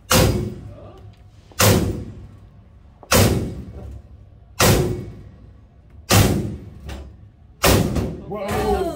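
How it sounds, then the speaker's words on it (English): A sledgehammer beats a metal pipe against the door of a safe in an abandoned Walmart, six loud, evenly spaced heavy clanging thuds, each ringing briefly before the next, close up. "You beat the pipe here with the sledge."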